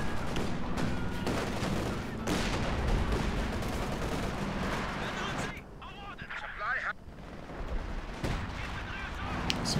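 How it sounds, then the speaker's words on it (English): Artillery barrage in Company of Heroes 2, a 3v3 match with rocket artillery: dense, continuous rumbling gunfire and distant booms fill the whole stretch, with a brief lull in the middle, while someone talks over the battle. "No, it's artillery this time not targeting the ML-20."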